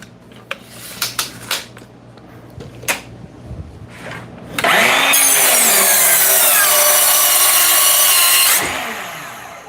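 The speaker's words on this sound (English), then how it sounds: "this little 7 1/4 saw" A 7 1/4 inch battery circular saw cuts through wood, starting with a few clicks and handling noises, then a loud, steady high-pitched whine for about four seconds before spinning down.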